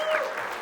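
An indoor audience at a Masonic retreat claps in a brief, steady patter of applause, moderately loud and fairly close, with a faint voice underneath.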